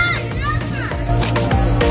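Children play in a park on a walk, their voices and shrieks forming a busy chatter close by.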